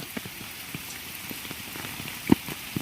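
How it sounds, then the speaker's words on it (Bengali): Steady rain falls on a surface nearby, a soft continuous patter with scattered individual drops tapping more distinctly, one louder drip standing out. "সারাদিন ধরে বৃষ্টি ঘর থেকে বের হতে পারতাছি না"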